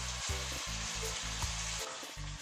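Meat sears in a pot for a Portuguese stew, giving a dense, steady sizzle that fills the foreground alongside a low, pulsing hum.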